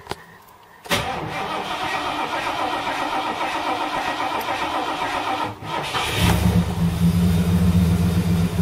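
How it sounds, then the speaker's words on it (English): A 1978 Ford LTD running on LPG cranks and catches, its engine settling into a steady, loud idle up close with a brief stumble before the revs pick up. "let's see if the old barge will start"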